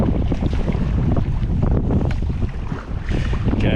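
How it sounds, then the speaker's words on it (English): Wind gusts buffet the microphone while sea kayaking along a coast at night, a loud, steady, rough rush with water sloshing underneath and no voice. "it's a little windy still."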